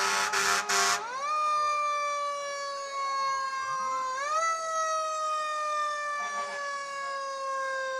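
Fire engine 203's siren wails during a Christmas parade, loud and close, with repeated rising and falling sweeps holding steady tones between them, preceded by a brief burst of horn-like blasts.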